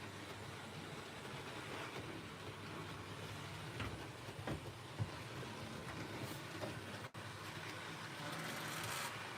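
A continuous mechanical whirring and rattling hum of a small model diesel train running steadily, with occasional faint clicks.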